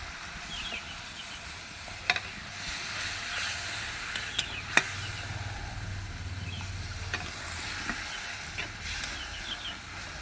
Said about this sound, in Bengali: কড়াই আমার তেল ছেড়ে দিয়েছে, ওর মধ্যে আর একটু আমি পানি দিয়ে দেবো